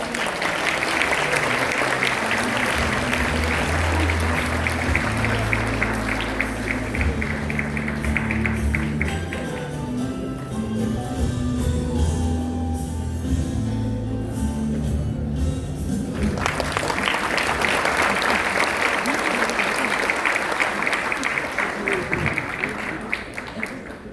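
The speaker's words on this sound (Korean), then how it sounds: "무대 위로 오실 때 여러분 뜨거운 박수와 환호로 맞이해 주시기 바랍니다." Loud, dense applause fills a conservative political conference hall in South Korea as a speaker is welcomed to the stage. Music with a steady beat briefly takes over in the middle, and then the full clapping returns.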